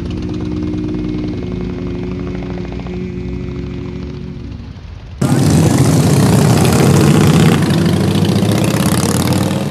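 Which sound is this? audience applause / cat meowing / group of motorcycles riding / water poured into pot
group of motorcycles riding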